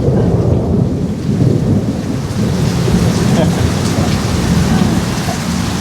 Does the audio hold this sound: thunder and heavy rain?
yes